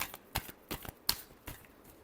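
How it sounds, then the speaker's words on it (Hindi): Tarot cards being shuffled by hand: a run of short, crisp riffling bursts with brief pauses between them, close and fairly quiet, with no talking. "Last shuffle."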